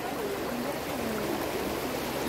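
A very small stream in flood-damaged Tejupilco, State of Mexico, gives a soft, continuous babbling wash, faint and even, with no voices over it.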